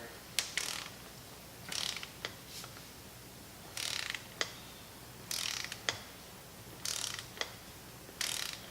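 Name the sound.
torque wrench tightening a 12 mm bolt on a Honda head gasket job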